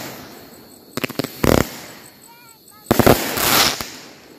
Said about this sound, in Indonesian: Itu dia hasilnya dari mercon wonderful ya